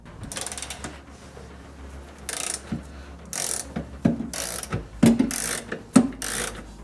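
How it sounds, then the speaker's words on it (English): Wrench ratcheting while loosening the nut on a rear toe link bolt of a 1JZ-swapped MK3 Toyota Supra, a series of clicking ratchet bursts with sharp metallic knocks, close and fairly loud in a garage. "We'll just loosen that nut and then tap the bolt through."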